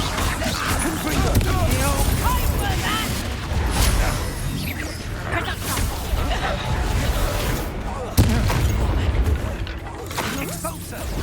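Hogwarts Legacy combat in which Confringo fire blast spells explode, with repeated booms and whooshing blasts through a busy, loud fight and a sharp impact near the end, while a voice talks throughout.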